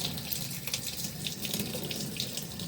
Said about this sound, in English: give that one more good rinse.